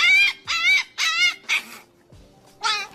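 A husky puppy lets out a run of loud, drawn-out howling yelps and whines, about five separate cries in quick succession with short gaps, close to the microphone.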